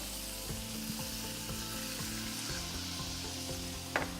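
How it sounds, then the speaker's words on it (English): Clams sizzle loudly in a hot pan on an induction cooktop, a steady crackling hiss with faint clinks of shells and utensils near the end. "And you can hear the sizzle already."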